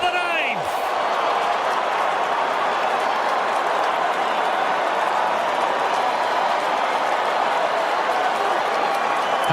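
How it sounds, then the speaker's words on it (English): Braves fans on the road roar and cheer in a ballpark after a game-tying ninth-inning home run, a dense, steady wash of crowd noise that holds loud throughout while announcers talk over it. "How about the Braves fans in this building right now cheering?"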